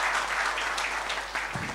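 Applause from an audience at a national workplace wellness policy launch, a steady patter of many hands clapping that fills the room and eases off slightly toward the end.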